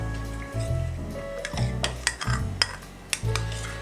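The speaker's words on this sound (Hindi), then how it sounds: "इसी पॉइंट पर हम इसमें हाफ कैली बीट किया हुआ दही शामिल कर देंगे" Beaten yogurt goes into frying masala in a pot for chana dal gosht, bringing soft sizzling with repeated scraping and clinking of a metal spoon against the pan, up close.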